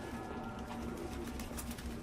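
Pigeons coo in the video game Detroit: Become Human on PS4 Pro, a low steady murmur of cooing heard over continuous outdoor ambience for a couple of seconds.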